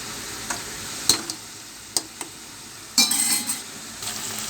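Potato curry cooking in a pan, a Telugu-style aloo dish, makes a soft, low simmering sizzle broken by a few sharp clinks and scrapes of a spoon against the pan.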